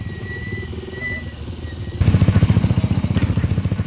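A motorcycle engine on dirt trails runs steadily, then grows louder and more throaty partway through with a pulsing, revving rhythm, close by.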